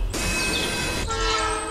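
Train horn blaring with a train rushing past in the video game Life is Strange, loud and continuous throughout with the sustained horn tone shifting partway as the cars roar by.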